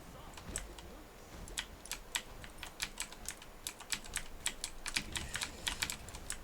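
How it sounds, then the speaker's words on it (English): Fast, steady typing on a computer keyboard during a SMITE match, with crisp individual key clicks in an irregular stream, fairly close and moderately quiet, no talking. "I typed that out specifically for the benefit of the Neath"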